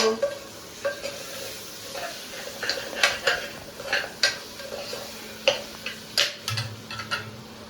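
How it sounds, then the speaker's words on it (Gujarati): Drumstick pods and potatoes tipped into a pan for a home-cooked curry and stirred, with repeated clinks of a spoon against the pan over a faint sizzle, close and moderately loud. "જો હવે હરગવો બટેકા નાખી દીધા મેં"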